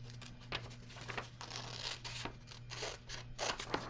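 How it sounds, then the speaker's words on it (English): Several short crisp snips of scissors cutting through paper, close and fairly quiet, over a steady low hum. "so I'm just going to use some scissors here."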